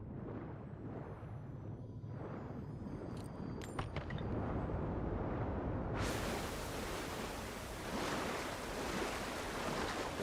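Rushing water from a waterfall in the video game Avowed, a steady broadband roar that surges louder and fuller midway through, with a few faint tonal chimes before it swells.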